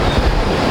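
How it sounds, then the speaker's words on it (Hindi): A Karcher pressure washer runs at full power, making a loud, dense motor-and-water roar that stays steady through the brief moment. "हम मशीन को ऑन करेंगे।"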